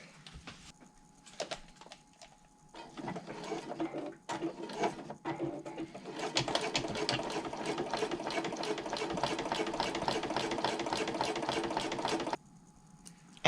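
A sewing machine runs close and steady, top stitching along the trim of a bag pocket, after a few short starts, with no talking.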